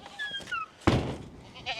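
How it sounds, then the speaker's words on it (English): Goats on a farm bleat close by, with one loud, harsh bleat in the middle and softer calls around it, plus a few faint bird chirps early on. "There's too many goats out here, not enough doggies."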